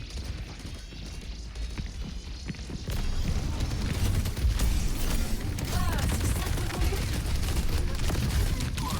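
Dense rapid gunfire and battle noise from the video game Overwatch, continuous and busy, growing louder partway through with layered effects and no clear talk.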